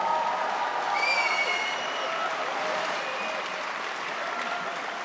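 Steady applause from a large hall audience at a Green party federal convention in Leipzig, sustained and fairly even throughout, heard at a moderate distance with a faint whistle-like tone drifting above the clapping.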